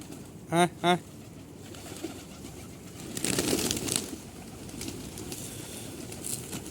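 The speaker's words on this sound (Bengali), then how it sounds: "এখানে সব ধরনের কবুতর আছে আমার এখানে" Mixed breeds of pigeons in a coop, two brief soft coos near the start followed by rustling, fluttering and a stretch of wing and movement noise, with background sounds throughout and no clear talk.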